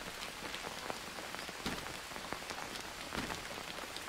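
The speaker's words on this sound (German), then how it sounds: "Jetzt regnet es wieder, siehst du mal." Rain in the survival video game Green Hell, a continuous patter of drops on surfaces with scattered sharper taps, steady and moderately soft, no talking.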